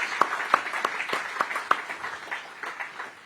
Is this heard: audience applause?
yes